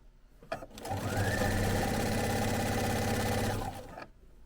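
A sewing machine runs steadily, stitching a seam with black thread about 5/8 inch from the edge. It starts with a click, holds a continuous rapid whirring hum for about three seconds, then stops.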